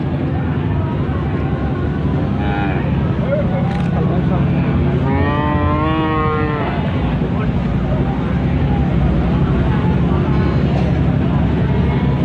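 Calves and cattle moo at the Karangploso livestock market in Malang, with a drawn-out nearby moo standing out over a constant crowd din and people talking throughout.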